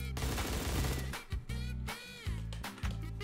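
AK rifle fire in a battle royale video game, rapid automatic bursts in several short strings separated by brief pauses, loud and close.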